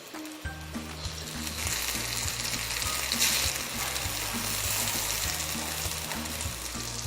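Coin potatoes fry in oil in a pan with a steady, close sizzle, with soft crackles and faint hiss throughout and a low hum underneath.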